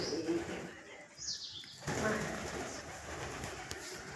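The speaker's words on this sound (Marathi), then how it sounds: "या ठिकाणी कबूतर असतात." Pigeons cooing at a Hindu temple at Panpekhane near Phaltan: soft, low repeated coos close by over a steady outdoor murmur, with faint background voices.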